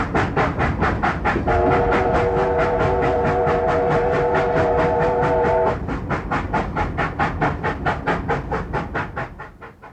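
Steam locomotive 3801 hauls a train with fast, loud rhythmic exhaust chuffs, a chime whistle sounding for several seconds partway through, the beat continuing and fading toward the end.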